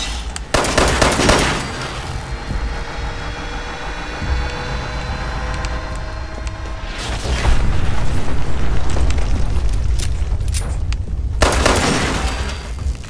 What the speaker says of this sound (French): Sympa l'explosion atomique, hein.